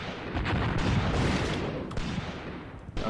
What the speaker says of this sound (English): Infantry guns doing their job.